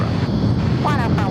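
A Dash 8 turboprop arriving at Sydney Airport gives a steady, loud rumbling drone mixed with wind buffeting on the microphone.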